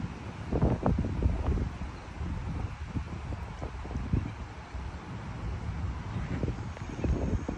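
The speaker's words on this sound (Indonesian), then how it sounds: "Itu angin." Steady wind blowing across an open outdoor space, buffeting the microphone with continuous rumbling gusts, with faint rustling and occasional voices under it.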